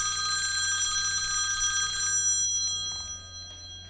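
A telephone rings with a bright, trilling electronic bell that holds steady for about two seconds, then cuts off and leaves faint background noise.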